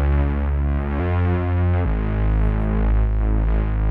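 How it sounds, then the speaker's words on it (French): Moog Model D synthesizer playing a MIDI-triggered bass line, thick and buzzy low notes changing pitch every second or so, loud and continuous with no voices. "on a le modèle D qui joue. Là, j'ai juste envoyé du MIDI pour faire une basse"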